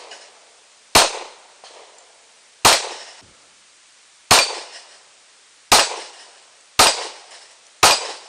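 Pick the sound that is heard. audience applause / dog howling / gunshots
gunshots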